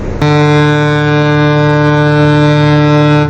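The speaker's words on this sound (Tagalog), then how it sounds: "Inilabas din ng Chinese Navy ang 2 nitong hovercraft na sa lakas pa lang ng makina ay pwede nang magpataob ng rib" A Chinese Navy hovercraft's powerful engine lets out a loud, steady, horn-like tonal roar that starts abruptly and holds evenly for a few seconds, close and alone without talking.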